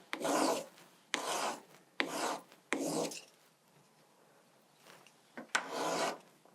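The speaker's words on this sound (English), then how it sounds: "So I've got a coarse emery stick" A coarse emery stick rubs over a piece of jewelry wax in five or six close, distinct rasping strokes, each about half a second long, separated by short pauses, with no talking.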